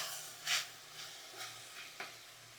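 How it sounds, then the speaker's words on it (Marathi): Rice being stirred into sautéed beetroot and cabbage in a pan makes a faint, soft sizzle, with a few brief scraping swishes of the spoon at irregular moments. "तांदूळ मिक्स करून घेऊ"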